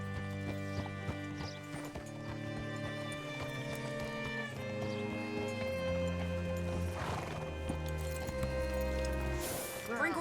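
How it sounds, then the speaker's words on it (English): Horse in Red Dead Redemption 2 whinnying over clip-clopping hooves, with a bright neigh near the end, set against sustained background music; speech-like sound may sit in the mix. "Hitch your horse up here."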